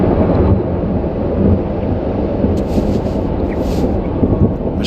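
A storm rumbles in Life is Strange: Double Exposure, thunder rolling with heavy low wind and rain noise that fills the scene continuously and loudly, with faint high crackles partway through.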